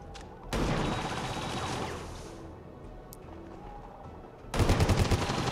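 An enemy soldier's gun firing in the video game XCOM 2: a loud rapid burst of automatic fire, then a quieter stretch, then a second harsh burst near the end.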